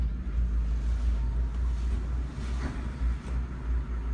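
Diesel engines on a Burger motor yacht start and settle into a deep, steady rumbling idle, close and continuous, with no talking.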